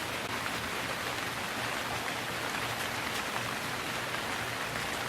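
Steady rain pours in a city street scene from the adventure game Gemini Rue, a dense, even hiss that continues without a break through the whole stretch.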